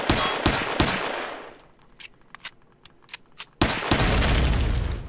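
Assault and pulse rifle gunfire in the video game Empyrion Galactic Survival, loud close rapid bursts of shots at the start and end with a few isolated single shots in between.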